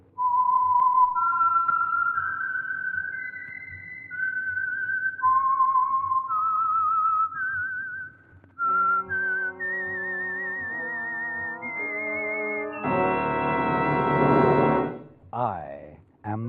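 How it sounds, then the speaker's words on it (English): Melodic whistled theme identifying the Signal Oil radio program The Whistler, clear sustained notes climbing and falling, then joined by orchestral chords and a swelling finish. "the signal to listen for is this whistle that identifies the Signal Oil program"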